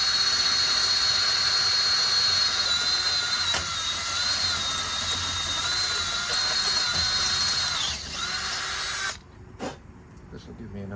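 A power drill enlarges bolt holes for a Hurst shifter bracket on a 1970 Ford Falcon, giving a steady high whine through metal with a few slight dips before it stops and a clunk follows.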